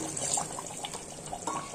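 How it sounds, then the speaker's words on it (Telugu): A glass of water is poured into a pot of boiling chicken, giving a faint, steady splashing trickle over low kitchen noise. "ఇప్పుడు దీంట్లో 1 గ్లాస్ వాటర్ పోస్తున్నాను"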